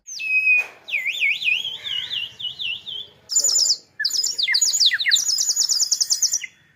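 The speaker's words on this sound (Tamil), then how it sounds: "அது தண்ணி ஊற்றி விசில் அடித்தா பறவை சவுண்டு கேட்கும்" A water-filled clay bird whistle gives a warbling, trilling bird-like whistle in rapid wavering bursts, loud and close, with short pauses between phrases.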